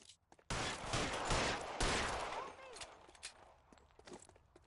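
Gunfire in the video game L.A. Noire: a sudden loud burst of rapid shots that runs for a couple of seconds, then fades to scattered echoing cracks, with a voice under the shooting.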